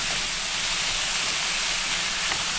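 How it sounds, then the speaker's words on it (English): Diced russet potato cubes sizzle in a pan for a chicken potato curry filling, a loud, even, continuous hiss with no breaks, close and alone. "And then we'll add in our potatoes. I've used 2 russet potatoes, which I have diced into half-inch squares."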